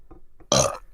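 A single short, loud burp erupts midway through near-silence, preceded by faint soft mouth sounds, close to the microphone.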